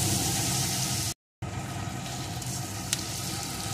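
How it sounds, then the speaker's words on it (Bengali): Soaked chana dal fries in oil with an even, hissing sizzle that drops out briefly for a moment, then resumes steadily with an occasional faint pop. "এখন বাকি ডালটাও আমি একইভাবে ভেজে নেব।"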